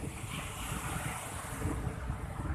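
Continuous broadband roar of surf washing on Langga Batang beach, Seunuddon, North Aceh, mixed with wind buffeting the microphone; no voices.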